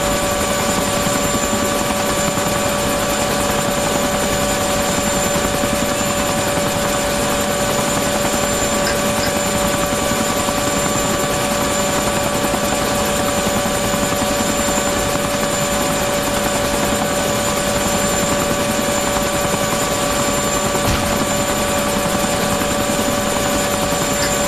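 Steady, loud helicopter rotor and engine drone from the Arma 2 video game, continuous and unbroken for the full length with no talking.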